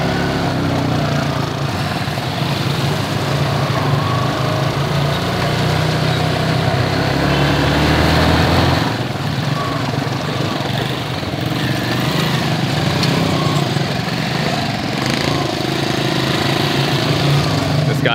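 A motorbike carrying three riders moves through a flooded, damaged slum in Haiti, its engine buzzing steadily and close throughout, with shifts in pitch and roughness as it climbs curbs.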